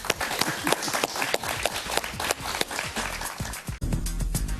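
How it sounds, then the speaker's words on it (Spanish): Studio audience applause for a guest on a talk show, a steady dense wash of clapping that fills the whole stretch with a brief dip near the end. "Un aplauso para él"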